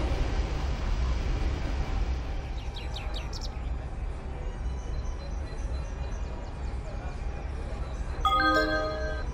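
A train pulls into platform 18 at Genova Piazza Principe station with a steady low rumble and high metallic squeals, under a busy station hum, followed by a bright chime near the end.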